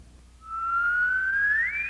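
A single long whistled note, slowly rising in pitch and sliding upward at the end, clear and fairly close with nothing else heard.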